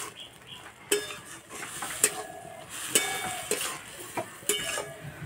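Shredded cabbage is stir-fried dry in a pan, heard as a quiet soft sizzle broken by sharp clinks and scrapes of a spatula against the metal pan, coming at irregular intervals.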